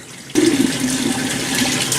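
Hot water bursts from a hose after a moment of quiet, a loud steady rushing spray with splashing that keeps going without talk.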